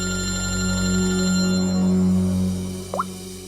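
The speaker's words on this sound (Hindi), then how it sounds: "सर हॉस्पिटल से फोन था" A telephone rings with a call from the hospital, a steady tone over a low hum, with no talk.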